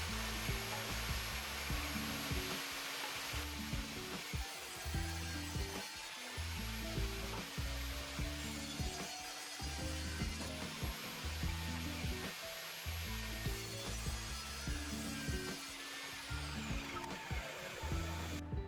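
Cedar 1x6 boards are ripped lengthwise into narrow slats for a raised planter box, the power saw's steady loud whine and rhythmic cutting surges continuing unbroken throughout with no talk.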